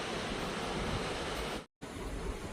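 A waterfall tumbling into an emerald-green cliff valley gives a steady, loud broadband roar of rushing water that fills the whole clip, broken only by a brief moment of silence near the end.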